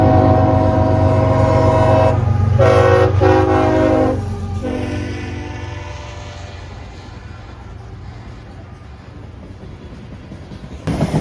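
A freight train rolls past at Folkston, Georgia, loud and close: a horn blast sounds in the first four seconds, then a steady rumble and rattle of rolling cars carries on to the end.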